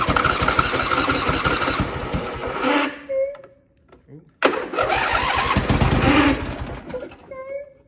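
The engine of a free Craftsman lawn tractor being repaired cranks and sputters loudly, cuts out briefly, then catches and runs rough again close by, with people talking over it.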